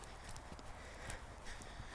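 Horse hooves trotting over ground and poles in a riding arena, a steady clip-clop rhythm under a noisy, wind-blown outdoor background, fairly faint and distant.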